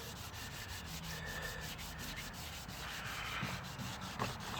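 Sandpaper rubs by hand over the paint of a 1957 Chevrolet Bel Air in a continuous close scratchy rasp, steady and rhythmic throughout, with no talking.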